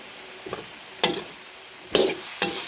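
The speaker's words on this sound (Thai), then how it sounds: "ผัดหมู ใส่คะน้าใส่ดอกผัก ใส่เห็ดพร้อมเห็ด" Pork stir-fried with Chinese kale and mushrooms in a pan, heard as a low sizzle broken by a few sharp spatula scrapes and stirring bursts, close by with no talk.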